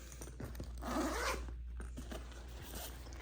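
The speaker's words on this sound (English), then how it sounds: "let's go ahead and zip that up" Zipper on a slim expandable anti-theft laptop backpack being pulled closed along a compartment, one continuous close, quiet zipping run lasting about a second amid soft handling rustle.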